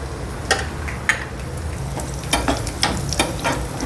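Peanuts and cashews sizzling and frying in hot oil for a tempering, meant for yogurt sago (dahi sabudana), with a steady crackle broken by several sharp spattering pops, close by and with no talk.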